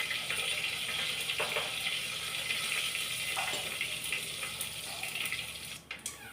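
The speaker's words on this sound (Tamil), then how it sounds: "கடுகு நல்லா பொரிஞ்சிச்சு" Mustard seeds crackling and popping in hot oil during sambar tempering, a dense hissing sizzle with scattered small pops, moderately close and steady throughout, without speech.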